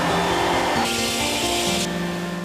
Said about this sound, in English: clean thoroughly with the HEPA vacuum one more time